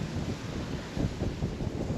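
Wind buffeting a microphone outdoors beside a Mazda MX-5 convertible, a steady low rumbling roar with gusty swells and no voices.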